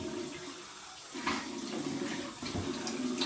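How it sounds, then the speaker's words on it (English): Cold tap water runs and splashes steadily as a face is rinsed over a sink after a cold-water shave, a close, continuous wash of water with brief splashy bursts. "we're going to go ahead and here and do this final face rinse from cold water"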